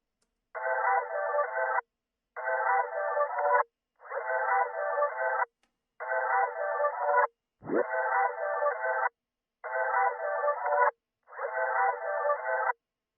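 Seven short, evenly spaced bursts of a dry, chopped vocal phrase repeating in a steady loop, with a brief low thump partway through.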